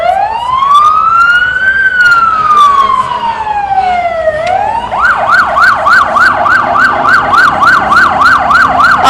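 Police car sirens lead a 2010 Norwood Day Parade, starting with a loud, slow rising and falling wail, then switching to a fast, steady yelp that repeats about a dozen times, close and continuous.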